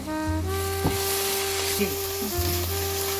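Chili powder and other spices stirred in a hot, sizzling pan for fish biryani, a steady fry hiss with a few scraping strokes of the spoon and a low background hum.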